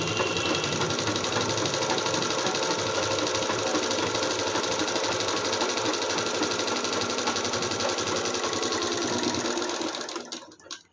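A sewing machine runs continuously, stitching a blouse lining in a fast, steady mechanical rattle that stays loud and close for about ten seconds before stopping. No one talks.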